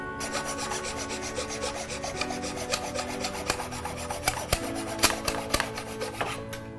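Wooden cake dowels being notched for assembling a wedding cake tier, a close, steady rasping rub of a marker or tool on wood, with a run of sharp scraping strokes and clicks toward the end.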